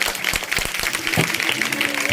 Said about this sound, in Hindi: तो तालियों दे दो।